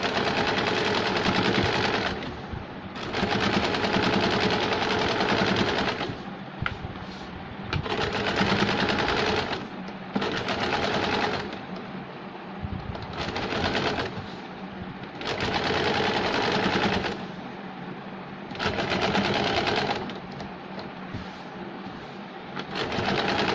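An electric sewing machine runs stitching seams on a dhoti salwar, loud rapid needle chatter in repeated bursts of a few seconds each, separated by short pauses as the fabric is repositioned.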